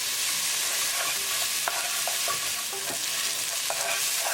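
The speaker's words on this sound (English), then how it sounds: "Cooking spices along with tadka for 1 minute" Cumin powder, garam masala and tomato sauce fry with a tadka in a pan for black-eyed pea lobia, making a loud, continuous, dense sizzle with a few faint stirring clicks and no voices.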